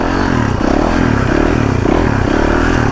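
A big motorbike rides over an uneven trail, its engine a loud, close, continuous drone with rough rumbling and clattering as it moves, and no talking.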